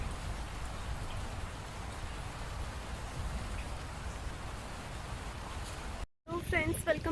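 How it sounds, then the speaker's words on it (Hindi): Heavy rain pours steadily during Hurricane Fiona in Nova Scotia, a dense, loud hiss of drops on surfaces close by, heard alone; the sound cuts out abruptly near the end before a brief burst of noise. "बहुत बारिश हो रही है नोवा स्कॉशिया में"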